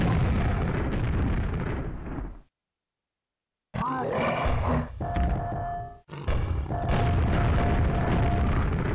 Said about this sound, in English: Now we just bounced this grenade over the corner, and as you see, it totally worked.